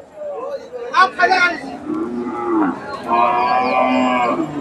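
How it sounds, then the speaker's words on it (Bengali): Bulls at a busy rural cattle market in Bangladesh low and moo loudly several times, close by, with people chattering in the background. "দর্শক দেখেন ওনার কাছে কতগুলা ষাঁড় গরু"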